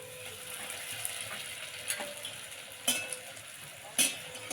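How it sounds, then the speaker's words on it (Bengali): A paratha stuffed with raw carrot and potato filling frying on low heat in hot oil in a wok; a soft continuous sizzle with a few sharp scraping stirs or taps, close and unaccompanied by talk. "আর এই পরোটাটা ভাজার জন্যে আমি মুখের দিকটা সবসময় নিচে দেব।"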